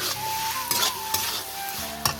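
Curry masala being sautéed (kosha) in a pan: a steady, loud sizzle with a few clinks and scrapes from stirring utensils, and no voices.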